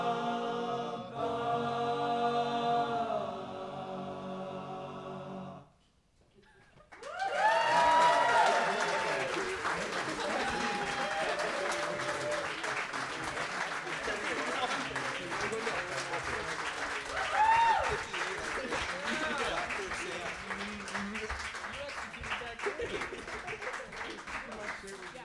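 Audience at a cabaret club bursts into loud, sustained applause with cheers after a sung a cappella ending, the clapping and whoops filling the room for about twenty seconds with occasional voices rising above.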